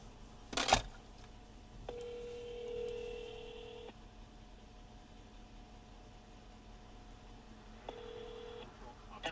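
An outgoing telephone call: a short burst of dialing, then two long ringback tones separated by several seconds of quiet line hiss, faint and with no talking.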